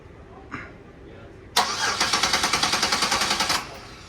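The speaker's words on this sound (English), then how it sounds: "we just tried to crank it over and it did not want to start just because the propane" A propane-flooded 2011 Buick engine cranks without catching, its starter whirring in a fast, even rhythm of about twenty pulses over two seconds before it stops, loud and close with no talk.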